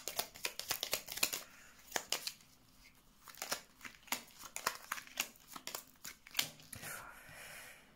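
Tarot cards being shuffled and drawn by hand, a quick run of papery flicks and soft slaps in an irregular rhythm, close and fairly quiet.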